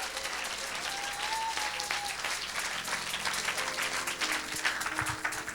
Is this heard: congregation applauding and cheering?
yes